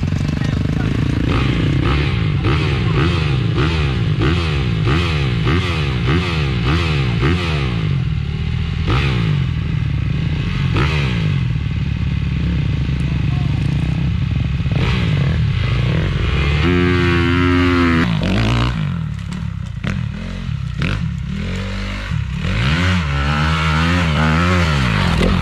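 Honda 250cc trail motorcycle for enduro and adventure riding, original engine, idling and revving nearby with a steady rumbling thrum and clattery mechanical noise throughout, while people talk over it.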